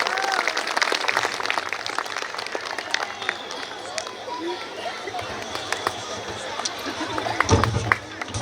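An audience claps at a school event, the clapping steady and mid-distance, mixed with crowd chatter and murmuring voices throughout.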